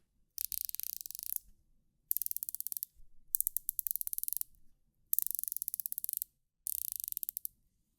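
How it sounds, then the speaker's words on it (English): The bezel of a Ginault Ocean Rover II dive watch is turned in five quick bursts. Each burst is a crisp run of rapid, even ratchet clicks, close and quiet, with short silences between. "The bezel is very satisfying to turn. The clicks are consistent and crisp."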